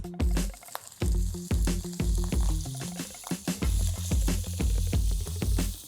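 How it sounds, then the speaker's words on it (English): Pork cheeks sear in smoky picante olive oil, a steady close sizzle broken by repeated stirring scrapes and clatters in an irregular rhythm, with no talking. "Let's sear these pork cheeks."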